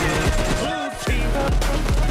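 Rapid gunfire in the mobile battle royale game PUBG Mobile, several loud close shots in quick bursts over a constant game background.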